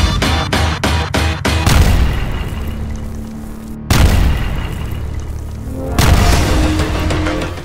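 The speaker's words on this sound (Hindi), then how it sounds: "धमाका इतना जोरदार था" Explosions during an Israeli strike on Gaza at night: a series of sharp booms at the start, then two heavy, loud blasts with long rumbling decays.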